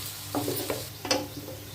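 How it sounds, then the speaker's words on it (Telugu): Onions frying in a pan for a Telugu dried-prawn curry, with a steady soft sizzle and a few short scraping stirs of a spoon, close and moderately quiet. "ఉల్లిపాయలు వేసుకున్నాం కదా, బాగా కలుపుకొని బాగా మగ్గబెట్టుకోవాలన్నమాట"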